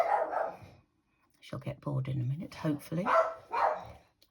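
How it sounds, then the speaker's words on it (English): A dog barks indoors in a few quick, close yips in the background while someone talks over it, the barks mixing with her speech. "Oh, excuse my dog."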